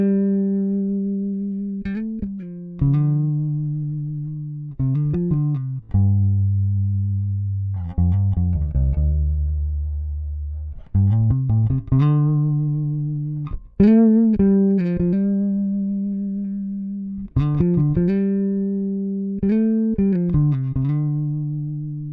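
Bass guitar strung with La Bella RX-N5D strings plucks notes one at a time, each held and wavering with vibrato, some slid down low, clean and close with pauses between phrases.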